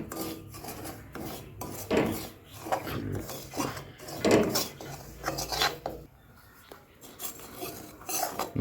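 Semolina (suji) being stirred and roasted in a hot kadai, with irregular scraping and rasping of a spatula against the metal pan and gritty rustling of the grains, close and moderately loud.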